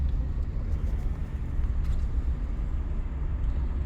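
A car engine idles low and steady as the car moves off slowly during a driving lesson, a continuous close rumble with no talk over it.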